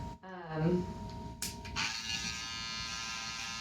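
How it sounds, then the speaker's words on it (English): Electric hair trimmer buzzing close by as it cuts hair during a high buzz fade, with a steady high whine that shifts in pitch as it bites through hair; a voice talks over it at the start. "So you can use a trimmer for this part."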